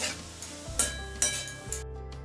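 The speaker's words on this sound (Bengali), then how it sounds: "লবণ দিয়ে আমি এই সব সবজিগুলো সটে করে নেব" Vegetables sautéing with salt in a pan for chicken soup, with soft sizzling under repeated light clinks and scrapes of a utensil stirring against the pan.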